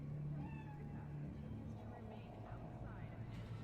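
A cat meows within the Cyberpunk 2077 video game, several faint drawn-out mewing calls heard under a low droning hum and background game ambience, with voices talking over them.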